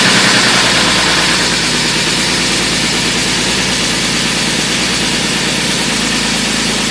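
A BMW E46 car engine runs steadily just after being replaced, a continuous close idle with a low rumble and broad vibration throughout, no voices.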